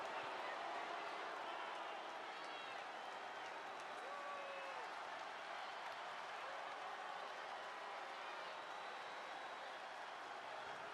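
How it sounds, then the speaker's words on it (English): A wrestling arena crowd cheers and applauds in a continuous, dense wash of noise, with some voices audible over the crowd. "soaking up the adulation of the crowd"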